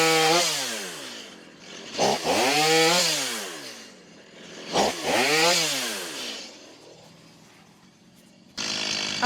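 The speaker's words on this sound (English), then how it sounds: "I can't believe that saw is idling." A chainsaw recently freed from a jammed tree, running close by in the woods: it revs up in three rising-and-falling surges, then drops back to a steady idle purr before a sudden louder burst at the end.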